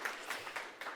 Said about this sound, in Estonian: teeme aplausi kõigile, kes on siiamaani vastu pidanud pika päeva teile